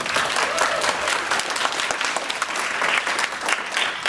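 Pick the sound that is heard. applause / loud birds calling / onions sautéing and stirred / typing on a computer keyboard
applause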